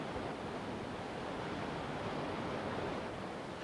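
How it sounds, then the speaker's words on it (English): Turbulent river water rushing over a profusion of small rocks in a rapid, a steady broad roar with no breaks or voices. "a mass of turbulent water caused by a profusion of small rocks in the riverbed"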